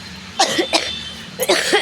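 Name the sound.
cough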